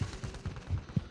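Gunfire in the video game Warzone, a quick string of five or six muffled shots at an even pace, fairly faint and distant-sounding, with no talk.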